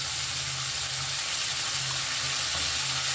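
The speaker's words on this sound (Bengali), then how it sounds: "ভালো করে কষিয়ে নেব আদা বাটাটা" Ginger paste sautéing in hot oil in a pan, a dense, even hiss of sizzling frying with faint stirring underneath, close and steady throughout.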